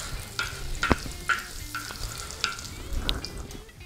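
Queijo coalho browning in bottled butter on a plow disc: a soft, steady sizzle broken by several sharp scrapes and taps as a utensil turns the pieces, with no talking.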